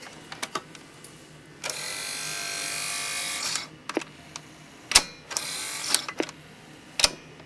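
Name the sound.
motor shaft rubbing against a metal piece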